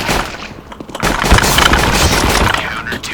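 Rapid bursts of automatic gunfire from a Counter-Strike: Global Offensive match, loud and close, firing in dense volleys across the clip without pause.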